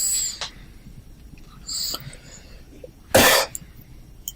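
A single short, sharp cough bursts out close and loud in an otherwise quiet room, preceded by a few faint small sounds.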